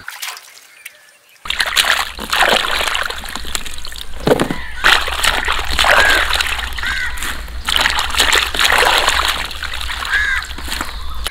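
Freshly washed strawberries are tipped into a strainer outdoors at midday, giving a sudden burst of splashing that settles into steady sloshing and dripping as water drains away.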